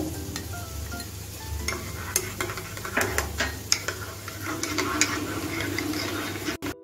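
Spice paste frying and being stirred in a pan for Bengali khirod katla, with a steady sizzle and repeated scraping and tapping of the spatula against the pan throughout.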